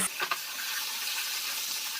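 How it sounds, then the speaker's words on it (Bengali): Ginger and green chili paste fries in hot oil, giving a steady, close sizzle with a couple of faint stirring knocks at the start and no talking. "মশলাটা আমি একটু ভেজে নেব"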